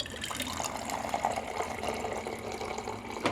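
Hot water runs from a Primo stainless steel bottom-load water cooler into a cup, a steady close splashing pour with light gurgles that continues for the whole stretch.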